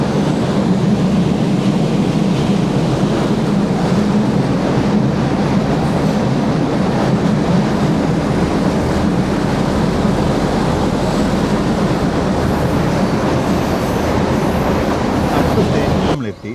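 A meter gauge train runs through Gir Forest, a loud, close, continuous rumble of wheels and carriages with steady rail clatter heard from on board.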